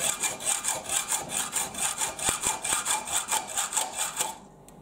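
Hacksaw cutting a small metal part, about a dozen steady rhythmic back-and-forth strokes, close and fairly loud, stopping abruptly near the end with no talk.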